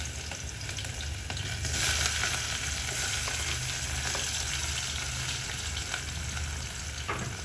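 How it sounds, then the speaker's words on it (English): Onions, tomatoes and green pepper fry in a pan, a steady close crackling sizzle with occasional stirring scrapes, continuous and moderately loud, with no talking. "So I started by frying the onions."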